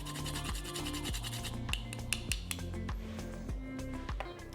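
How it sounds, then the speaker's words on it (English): Whole nutmeg is rubbed against a grater in short, regular rasping strokes, close and quiet, for tea being made with cocoa powder. "I'm also going to grate a little nutmeg."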